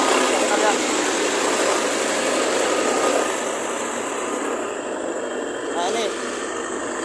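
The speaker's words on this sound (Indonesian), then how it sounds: "dengan mesin molen, ini mesin molennya teman-teman" A mortar mixer machine running at a brick-making site where clay is mixed for bricks, a loud, steady mechanical drone with a slight drop in level partway through, close by.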